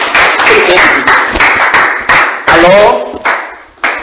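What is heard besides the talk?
congregation clapping for a brother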